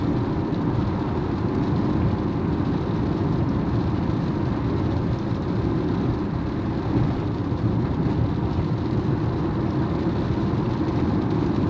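Steady, dense low rumble from inside an MG ZST with a 1.5L engine and CVT as it gradually accelerates, a continuous drone with road noise and no distinct gear changes, fairly loud throughout.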